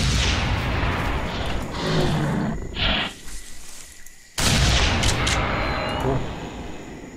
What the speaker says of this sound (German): Wieder gleichzeitig geschossen.